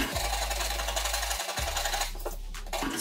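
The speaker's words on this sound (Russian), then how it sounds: "берем стамеску и оп, ей это все сошкрябываем." A steel chisel scraping rust spots off a car's body panel, a continuous harsh rasping scrape with a brief break midway, close and fairly loud.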